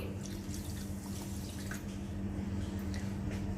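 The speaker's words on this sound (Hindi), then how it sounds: "इसमें हम डालेंगे 3/4 कटोरी पानी।" Water is poured into about one and a half bowls of sugar in a pan to make syrup for balushahi, a faint, steady trickle and splash heard alone over a low background hum.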